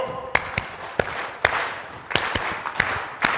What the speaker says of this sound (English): When I say go, I want you to start clapping with me